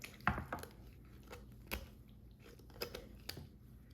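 A chef's knife cuts through a raw, partly icy turkey being spatchcocked, giving faint, sparse crunching snaps and cracks at irregular intervals in a quiet room.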